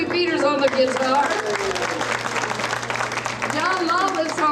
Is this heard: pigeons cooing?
no